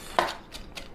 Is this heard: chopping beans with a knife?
yes